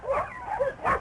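Dogs and puppies at a 1944 dog show give a few short, close yips and whimpering barks in quick succession within a second.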